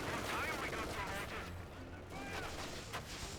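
Bursts of gunfire and explosive cracks sound from a Company of Heroes 2 battle between US forces and German Ostheer, dense and layered under a commentator's voice.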